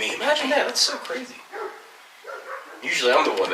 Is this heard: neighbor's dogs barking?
yes